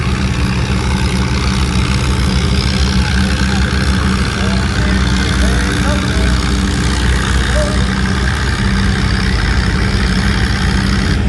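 A tractor at a tractor pull roars nonstop with a loud, heavy, low engine drone that holds at full power throughout.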